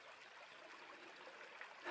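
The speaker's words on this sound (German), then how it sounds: "Ein bisschen Wasser plätschern" Water splashing and trickling in a stream on a quiet morning outdoors, a soft, steady babble heard alone at low level.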